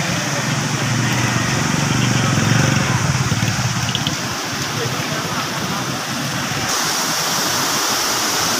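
Floodwater flows down the river at Taunsa Barrage as a steady, dense roar of rushing water that fills the whole stretch without a break.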